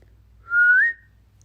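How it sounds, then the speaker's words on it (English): A single clear whistled note from a person, lasting about half a second and rising slightly in pitch at the end, close and isolated against near silence. "Can you whistle?"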